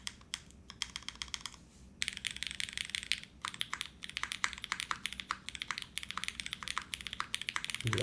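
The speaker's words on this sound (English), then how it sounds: "let's give this a little typing test here" Typing on a polycarbonate Kohaku mechanical keyboard fitted with Nixie switches: dense, rapid clacky keystrokes close up, briefly pausing twice before resuming in a steady stream, with no talking.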